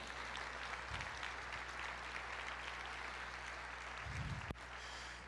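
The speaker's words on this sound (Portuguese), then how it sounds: "Você pode aplaudir o Senhor." A church congregation applauding during a sermon, a steady wash of clapping from a large crowd held at an even level throughout, with a brief sharp knock near the end.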